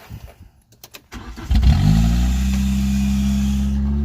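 A 1989 Nissan Sentra with a starting fault gives a few clicks and cranking sputters, then its engine catches and runs at a loud, steady idle, recorded close up.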